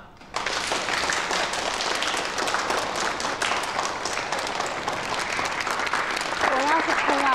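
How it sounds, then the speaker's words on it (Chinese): A high school classroom breaks into loud, sustained applause, many hands clapping steadily for several seconds, with voices briefly audible near the end. "掌声呢？"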